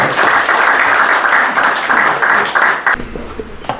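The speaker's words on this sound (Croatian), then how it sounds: "Zato molim vas pozdravite brata Rada sa jednim velikim aplauzom." An audience at a Serbian folk society gathering breaks into steady, dense applause that carries strongly for about three seconds before abruptly thinning out into a few scattered claps.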